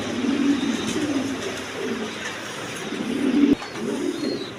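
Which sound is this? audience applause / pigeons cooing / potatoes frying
pigeons cooing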